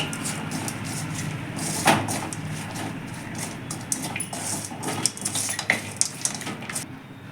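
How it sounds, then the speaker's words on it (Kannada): Poha stirred and fried in a pan at home, a steady soft sizzle under repeated scraping and light clinks of a spoon against the metal, close by and without talk. "ಈಗ ಸ್ವಲ್ಪ ಫ್ರೈ ಮಾಡ್ಕೊಳ್ಳಿ"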